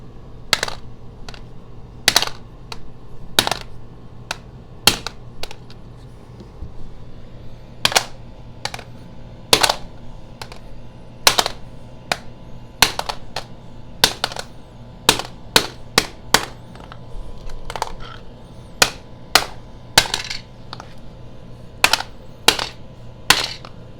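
Sharp metallic hammer blows strike a Nokia 2760 flip phone, dozens of them at irregular intervals, close and loud with quiet pauses between.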